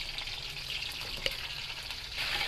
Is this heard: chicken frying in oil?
yes